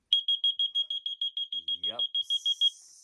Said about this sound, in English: If those get wet and make a connection, then that alarm goes off